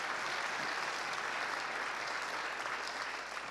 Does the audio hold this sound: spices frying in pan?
no